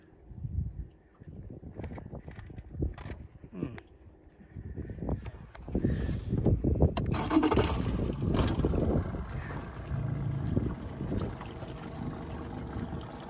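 Boat motor idling low and steady while fishing for barramundi in the Whitsundays, under wind noise and water sounds, with scattered knocks and a brief faint voice.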